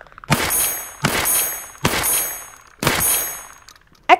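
A 12 gauge shotgun fitted with a Vzor 3TK red dot sight fires four loud, close shots at roughly one-second intervals. Each blast is sharp, with a long ringing decay, and a brief metallic clink follows at the end.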